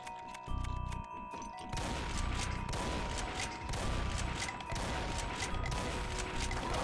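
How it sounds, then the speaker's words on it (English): Gunfire aimed at the player in Doom, with dense bursts of rapid shots and booming impacts that continue steadily over several seconds against a droning game background. "What the fuck is shooting me?"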